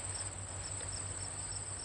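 A cricket chirps steadily in rapid, evenly pulsed bursts, close and continuous throughout, with no voices over it.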